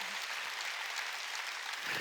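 A church congregation claps during a Wednesday worship service: a soft, distant wash of hand applause, faint and even, sustained without breaks.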